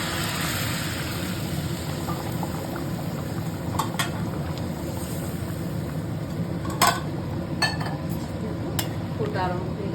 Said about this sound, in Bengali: এখন ভাত ফোটা আরম্ভ করে দিয়েছে।